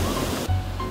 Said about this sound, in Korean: 분설담 폭포는 힘차게 떨어져 푸른 소를 이룹니다